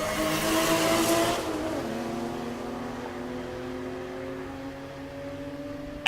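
A 3rd Gen Camaro drag car finishing a burnout at a drag strip, its engine holding a loud, sustained high roar that then settles into a steady lower drone with rising tones, a sharp burst at the end.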